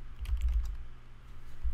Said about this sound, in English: I'm gonna type digital marketing